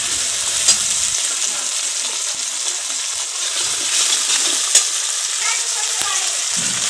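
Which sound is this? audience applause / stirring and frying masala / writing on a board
stirring and frying masala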